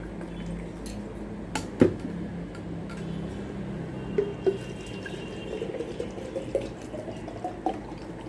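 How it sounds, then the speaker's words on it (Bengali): Water is poured to fill two bottles, giving a quiet, uneven trickle and gurgle with occasional clinks and drips at close range. "এখানে 2 বোতল জল ভরে রাখলাম"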